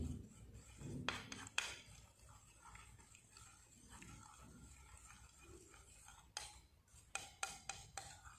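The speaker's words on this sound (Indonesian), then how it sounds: "Kemudian dua bahan ini kita aduk dulu." A spoon scrapes and clinks in a bowl as two face-mask ingredients, including rose water, are stirred together, with quiet rubbing strokes and bursts of sharper metallic clicks at the start and end.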